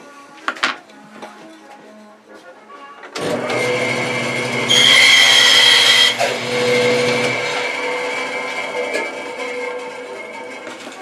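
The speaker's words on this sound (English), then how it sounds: "next, cut this piece of wood." A power tool starts up and cuts through a piece of wood, a loud whining motor with a rising buzz as the blade bites, then winding down; a few light knocks and handling sounds come before it starts.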